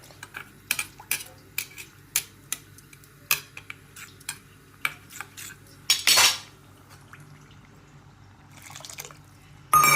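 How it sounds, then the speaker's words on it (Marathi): Thick yogurt is whisked in a metal pot, producing a run of sharp utensil clicks and taps against the vessel in an uneven rhythm, close and fairly quiet, followed by a brief louder scrape, with no talking. "दही घट्ट होतं जरा जास्त, त्यामुळं भांड्याचं फेटलं"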